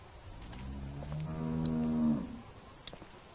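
A cow moos in The Walking Dead video game, one long, drawn-out, faint low call that rises and then cuts off in a barn setting, with no talk over it.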